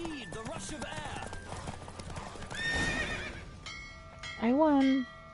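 A horse in The Witcher 3 video game gallops with steady clip-clop hoofbeats under in-game talk, then gives a loud neigh near the end.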